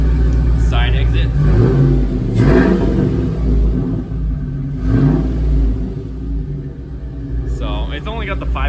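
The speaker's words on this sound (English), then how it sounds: "let me go on the other side and hit the gas for a second." A lifted 2004 Chevrolet Silverado with a 5.3 engine is revved in a few rising and falling bursts, deep rumbling up close, while people talk over it.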